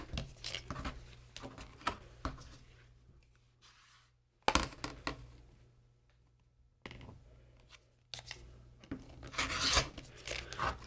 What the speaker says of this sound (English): Now we're just going to cut along that line we drew on both pieces.